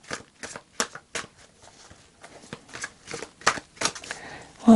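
Tarot cards are shuffled in quick bursts of crisp riffling and snapping, close and irregular, with soft pauses between, no voices.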